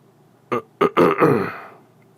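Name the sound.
throat clearing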